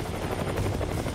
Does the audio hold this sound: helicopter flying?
yes